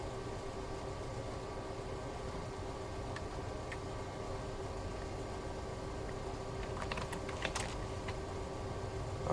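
Light clicks of typing on a computer keyboard during an Ubuntu Server install, sparse and faint at first and then a quicker cluster of keystrokes, all under a steady low hum.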